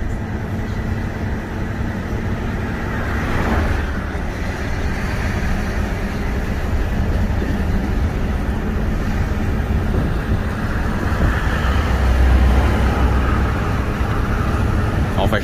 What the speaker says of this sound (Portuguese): Já escutaram o ronco do motor?